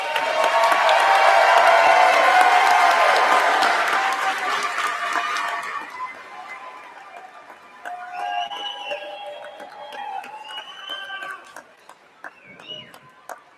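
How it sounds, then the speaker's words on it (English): Commencement ceremony crowd applauding and cheering, loud and dense for the first five seconds, then thinning into scattered claps and shouts with some voices. "please stand and turn and thank those with you today by giving them a wave and a big round of applause"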